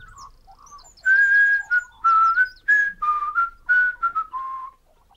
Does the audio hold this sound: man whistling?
yes